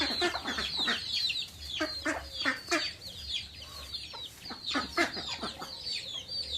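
Free-range village chickens cluck busily in bursts while feeding in the morning after being let out with the ducks. The calls are close, overlapping and irregular.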